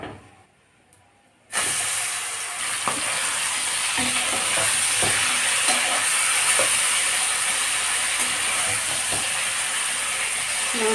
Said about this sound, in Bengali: মাংসটাকে আগে ভেজে নিব।